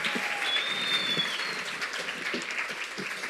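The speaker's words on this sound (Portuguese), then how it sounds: "Uma salva de palmas para o meu irmão." A church congregation gives a pastor a round of applause during an anniversary service, quiet scattered clapping with some crowd noise, heard fairly far off.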